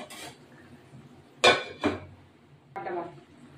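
Metal lid set onto a pan of potatoes in a fish curry, giving two sharp clanks followed by a softer rattle, faint and close with quiet kitchen background.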